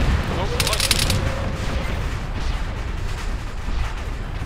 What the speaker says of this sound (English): we're getting shot from somewhere